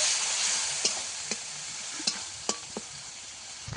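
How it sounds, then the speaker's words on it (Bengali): A spice paste of green chili and chili powder sizzles steadily in a pan as a fish curry gets underway, with a handful of sharp spoon scrapes cutting through at scattered intervals; close and moderately quiet, with no voices. "সামান্য একটু জল দেবো দিয়ে মশলাটাকে ভালো করে কষিয়ে নেব"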